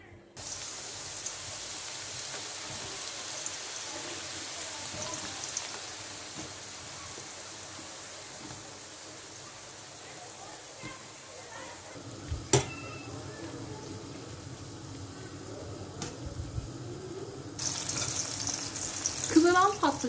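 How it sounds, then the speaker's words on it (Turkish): Eggplant slices, already drained of excess water, fry in hot oil for Turkish moussaka, giving a steady, moderate sizzling hiss. A few brief clatters and a louder burst of sizzling come near the end. "Suyunu çeken patlıcanlarımızı kızgın yağda kızartıyoruz."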